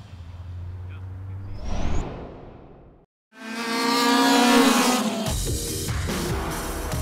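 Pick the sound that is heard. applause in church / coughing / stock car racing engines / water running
stock car racing engines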